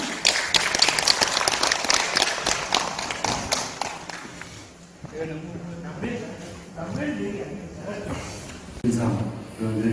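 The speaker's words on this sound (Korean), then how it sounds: "박수로 맞이해 주시기 바랍니다." Applause from a forum audience welcoming an invited lecturer on the ginseng industry, a burst of clapping at the start fading as a speaker begins talking over it.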